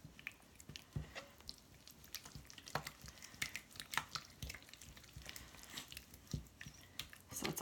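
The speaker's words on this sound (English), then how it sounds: "I'm going to add about 8 ounces of cocktail sauce, and if I need to add more, I will. So I'm just going to stir this around." Cocktail sauce being stirred in a bowl, soft wet squishing and light scraping strokes repeating irregularly, close and fairly quiet with no talking.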